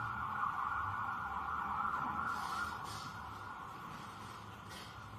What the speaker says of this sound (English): Mr. Wolk, if you can go back just and wait until the sirens pass, please.